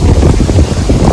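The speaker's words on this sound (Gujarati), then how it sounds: "એટલો પવન આવે છે મસ્ત" Wind blowing across a farm field, a loud, constant buffeting rush striking the microphone at close range, with no other sounds standing out.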